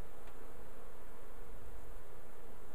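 Honey bees hum in an opened hive during an early winter inspection, a steady, close, continuous buzzing with no voices.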